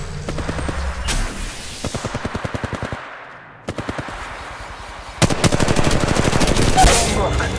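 Automatic weapon fire in the video game Apex Legends, with several rapid bursts of loud, close shots separated by short pauses, ending in a longer, dense volley.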